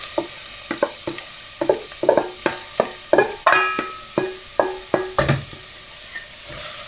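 Sliced onions and finely cut bell peppers sizzle in melted butter in a pan, a steady frying hiss under regular, close scraping taps of a utensil stirring roughly every half second.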